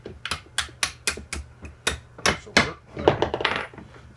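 A small metal punch is hammered to drive a bolt out of a hole jig machine, giving a quick run of bright, close metallic taps, steady at first and then crowding together near the end.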